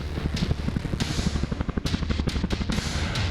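Indian Air Force combat helicopter flying at 13,500 feet during a military exercise: a steady, rapid rotor thump with a turbine whine and gusty bursts of wind noise, close and loud.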